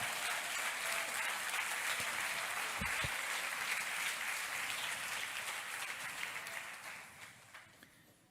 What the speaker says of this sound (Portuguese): Aplauda o Senhor com alegria.